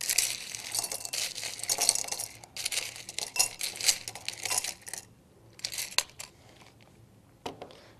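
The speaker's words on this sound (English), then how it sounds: "Start by filling a 400 milliliter beaker, approximately 1/3 full, with ice." Ice is scooped into a 400 milliliter glass beaker, producing bursts of crunching, rattling and clinking cubes that pause, resume and end with a few sharp knocks, close and alone.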